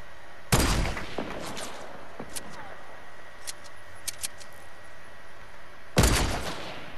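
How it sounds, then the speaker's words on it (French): Gunfire in the Fortnite video game, two loud sharp shots at the start and near the end with faint clicks and small game sounds between, no voice over them. "dès qu'il bouge plus, je le tire dessus"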